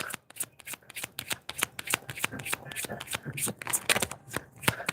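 Deck of tarot cards being shuffled and handled, rapid crisp flutters and slaps of cards in quick irregular bursts, close and fairly loud.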